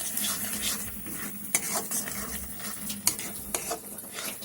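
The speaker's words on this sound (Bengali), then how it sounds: "এই মশলাগুলো দিয়েও ভালো করে আমি পেঁয়াজের সাথে ভালো করে মিশিয়ে নেব" A spoon stirs spice paste and onions in a hot frying pan for a green jackfruit and prawn curry, with continuous sizzling and repeated scraping against the metal pan, close and busy.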